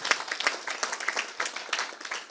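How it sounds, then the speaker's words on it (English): Applause from a conference audience at an academic session on sustainable investing, a lively burst of many hands clapping, close and continuous with uneven peaks. "So probably they deserve a big round of applause also."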